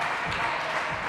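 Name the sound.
home crowd cheering at women's volleyball match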